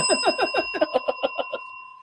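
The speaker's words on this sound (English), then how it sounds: "That bell." A bright, rapid bell rings about a dozen strikes in quick succession, loud and close, then fades out. No voices are heard.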